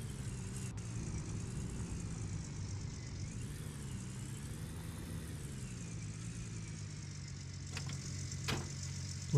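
A truck engine idles in the Gold Rush mining video game, a steady low rumble held at moderate level for several seconds with a couple of faint clicks near the end.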